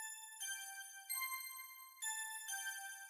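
Shimmering synth bells from the D50 stack preset, mixed with reverb and EQ, ring out alone in a few sustained, glassy hits, each with a bright attack and lingering tone.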